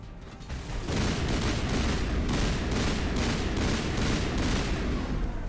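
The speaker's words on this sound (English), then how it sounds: "Let's see what I can do with my assault rifle." Assault rifle fire in Mass Effect 1 Legendary Edition, a steady string of loud, evenly spaced automatic shots over a dense, constant roar of combat noise.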